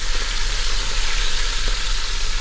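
Oxtail sears in a hot pan with a loud, dense, continuous sizzle and hiss, close up and unbroken, with faint occasional pops and no talking.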